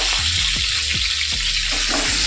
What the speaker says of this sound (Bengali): পটলগুলো দেওয়ার পরে খুব ছিটকাছে, তেল ছিটকাছে